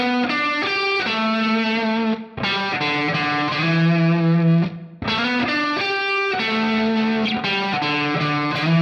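Distorted electric guitar plays an intro riff, loud and sustained, with repeated phrases separated by two brief gaps.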